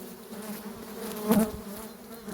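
A honeybee colony buzzes steadily while its hive is opened and the nest taken apart for inspection, a close, even insect drone with a brief louder swell partway through.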